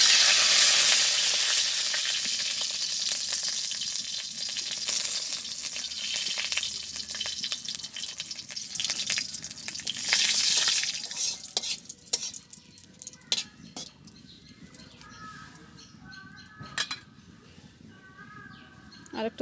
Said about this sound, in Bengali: কয়েকটা তেজপাতা দিয়ে দিতেছি।